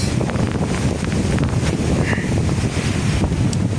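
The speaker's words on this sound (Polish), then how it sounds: "Jechaliśmy właśnie na motorze i zaczął taki mocny wiatr" Strong wind buffets the microphone while riding a motorbike, a loud, constant roaring rumble with no break throughout.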